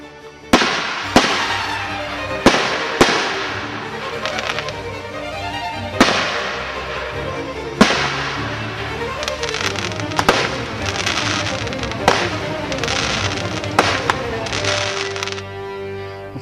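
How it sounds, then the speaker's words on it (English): Fireworks burst over a summer evening festival after a bonfire, with sharp loud bangs and crackling volleys repeating irregularly for about fifteen seconds amid continuous fizzing and rumbling. "A bonfire is then lit, and this is followed with fireworks."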